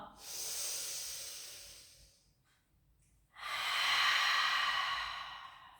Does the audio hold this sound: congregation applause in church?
no